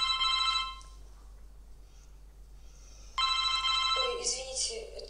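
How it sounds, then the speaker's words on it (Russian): A mobile phone rings loudly in two bursts of bright, repeating electronic tones, the first stopping abruptly and the second returning after a pause, heard during a scene from the Russian TV series Ranetki. "Ой, извините, это мой мобильный."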